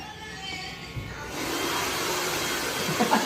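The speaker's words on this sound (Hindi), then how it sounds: "यहाँ पे काना के ट्रिमर लगता हुआ" An electric hair trimmer buzzes steadily and close by while cutting a toddler's hair, a continuous hiss-like hum that grows louder partway through, with faint voices in the background.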